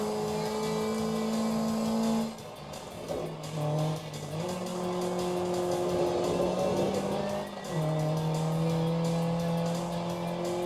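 A racing car engine in a driving video game played with a USB steering wheel on Android TV, droning loudly and continuously, pitch climbing as it accelerates, dropping briefly at gear shifts, then rising again.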